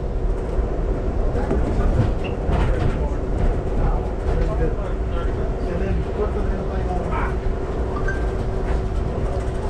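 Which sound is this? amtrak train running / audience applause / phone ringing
amtrak train running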